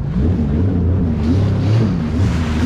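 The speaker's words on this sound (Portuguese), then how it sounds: "Essas ondas que parece que eu mesmo fiz, né?" Boat wake waves on a lake stirred up by a small watercraft, a steady low rumbling wash of water mixed with engine drone and wind buffeting the microphone, loud and continuous throughout.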